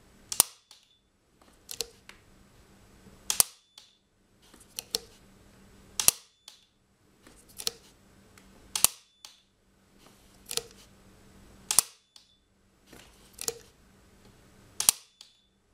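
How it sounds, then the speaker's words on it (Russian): Circuit breakers trip off during a selectivity test, giving sharp mechanical snaps repeated at regular intervals roughly every one and a half seconds, each with a fainter click near it, close and alone with no talking. "в этой связке у нас отключается только входящий автомат"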